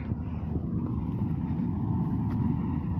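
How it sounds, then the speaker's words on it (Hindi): A Swaraj tractor runs steadily with a rotavator in a farm field, a continuous low engine rumble close by with wind buffeting the microphone throughout. "वो हमारा स्वराज ट्रैक्टर चल रहा रोटावेटर पर।"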